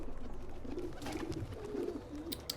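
Pigeon cooing inside the video game Assassin's Creed 2, soft and low, repeating in a steady murmur against a light ambient background with no talk.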